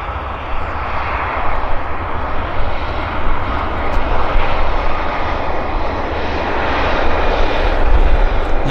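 An airliner touches down with its spoilers up and thrust reversers deployed, a loud, broad jet roar that swells as the reversers take hold, heard at an airport.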